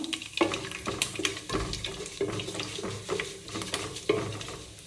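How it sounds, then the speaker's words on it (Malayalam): Mustard seeds crackle and pop in hot oil, with sharp scattered bursts and a steady sizzle close by, some clatter of stirring mixed in. "കടുക് പൊട്ടി വരുമ്പം"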